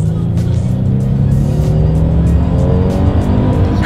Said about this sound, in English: I think we are going to do a little acceleration here, and let's see how quickly we can get this new Kia Telluride up to speed.